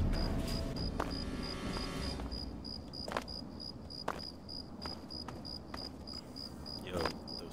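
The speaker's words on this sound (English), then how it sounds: "those crickets are fucking annoying" Crickets chirp steadily in the video game Fallout 3, a regular high pulsing that runs the whole way under a low ambient game rumble, with a few brief clicks and soft thuds scattered through.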